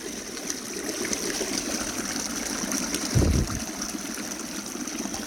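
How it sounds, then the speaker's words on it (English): Water rushes steadily through a small gold sluice fed from a classifier at a creek, a constant close hiss with a brief heavier splash or thump around the middle. "Now I'm running the actual sluice pretty much"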